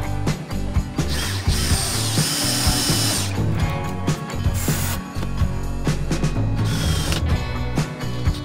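A power driver sinks track screws into cedar ties while 7 1/2 inch gauge backyard railroad track sections with aluminum rail are assembled, giving repeated loud, close whirring and ratcheting bursts with brief pauses between screws.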